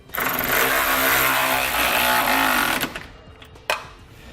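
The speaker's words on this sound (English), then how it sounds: "Come back with a 9/16 wrench and socket, and we're going to snug up our hardware so it's not moving around." A socket wrench with a 9/16 socket snugs up the hardware on a Blue Ox base plate kit under a 2013 Jeep Grand Cherokee; a steady, rapid ratcheting runs close and loud for nearly three seconds, followed by a single sharp click.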